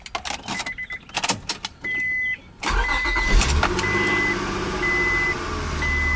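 A 1998-2002 Honda Accord after a transmission fluid change gets its morning start: a few clicks and a short crank catch into a steady close idle, and a repeating chime beeps over the running engine.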